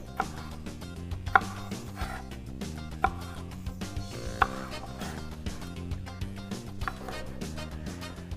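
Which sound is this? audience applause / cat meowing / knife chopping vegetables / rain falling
knife chopping vegetables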